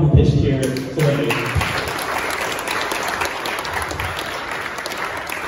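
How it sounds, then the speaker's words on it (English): Loud, dense applause from an audience at a startup pitch event, starting abruptly and holding steady in a broad wash of many hands clapping, with a voice briefly heard at the very start. "please give a big round of applause to everyone who pitched here today"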